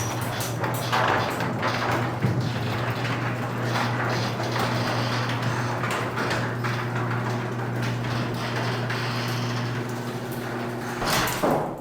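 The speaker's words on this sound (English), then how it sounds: "Now it's a very old garage door. It still is making some noise." Very old garage door closing after its metal wheels were lubricated, a continuous rolling rumble with a steady low hum and scattered clicks and squeaks, running for about twelve seconds.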